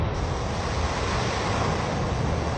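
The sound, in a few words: floodwater and waves during a super typhoon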